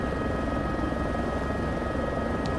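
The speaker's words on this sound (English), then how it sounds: "I've been flying this plane for 2 hours, or this helicopter for 2 hours" A Cowan H125 helicopter in a flight simulator gives a steady, continuous engine and rotor drone, even and unbroken throughout, with no talking over it.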